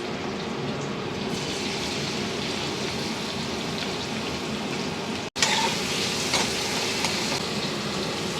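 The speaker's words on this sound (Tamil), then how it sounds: "கொஞ்சம் ஆயில் ஊற்றிக்கலாம். வெங்காயம் கொஞ்சம் போட்டுக்கலாம்." Onions frying in oil give a dense, rain-like crackle that stays close and constant, with a brief gap partway through before the sizzle resumes.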